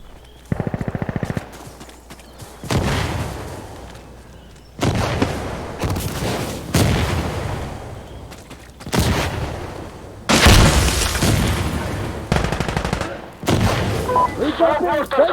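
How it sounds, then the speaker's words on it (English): Mortar rounds and gunfire in an Insurgency Sandstorm match, with loud repeated blasts and bursts of booming fire coming in uneven clusters, fairly close, with voices talking at times. "Smoke mortars are finished!"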